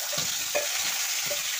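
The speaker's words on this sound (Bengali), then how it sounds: "তেল গরম হয়ে গিয়েছে, এই ফুলকপিগুলো আমি কষে নেব।" Cauliflower florets rubbed with salt and turmeric sautéing in hot oil in a home kitchen, a steady sizzle with a few stirring scrapes and clatters, close and continuous with no talking.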